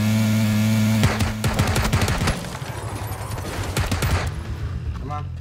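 Rapid bursts of automatic gunfire in the shooter game PUBG, a dense clattering volley followed by a shorter burst, with players talking over the shooting.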